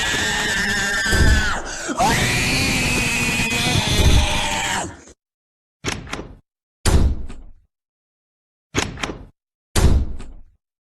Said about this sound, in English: Stop slamming doors.